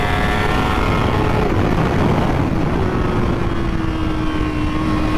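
A 2024 Kawasaki Ninja ZX-4RR 400 sport bike screams at high revs on a race track, a loud continuous engine whine with shifting pitch that drops slightly midway, heard alone without talk.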